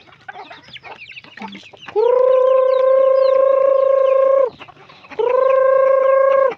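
Chickens cluck in short bursts at first, then two long, loud, sustained calls ring out close by, the second following a brief pause.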